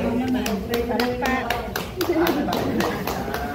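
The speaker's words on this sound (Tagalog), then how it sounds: "Palakpak." Small audience at a herbal products presentation clapping, a short series of distinct hand claps with voices talking over them.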